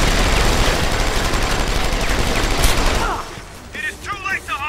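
Heavy automatic gunfire pounds away in Deus Ex: Human Revolution, a loud, continuous barrage for about three seconds that then cuts out. Someone speaks afterward.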